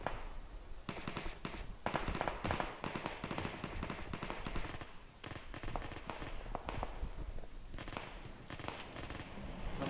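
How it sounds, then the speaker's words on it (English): Gunshots in the video game PUBG crackle in dense bursts of rapid sharp reports, fairly faint and distant against background noise, continuing through most of the stretch. "Okay, someone is shooting."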